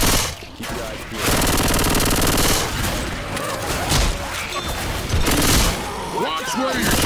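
Gunfire in Left 4 Dead 2, dense rapid automatic bursts and shots nearly continuous and loud, with brief pauses, mixed with shouting voices.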